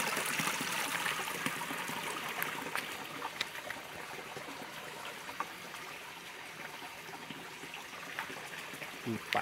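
Spring water at a river source in Ipiaú, Bahia runs steadily over stones, a continuous close trickling wash with small splashes throughout.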